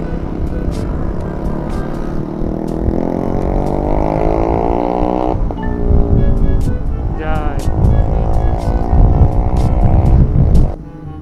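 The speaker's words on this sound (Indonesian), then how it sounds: "Tuh knalpotnya berisik cuy." A loud, noisy motorcycle exhaust on a Sunday morning group ride near Pangalengan, Bandung, revving and droning with rising and falling pitch sweeps, close and continuous beneath people chatting over the engine.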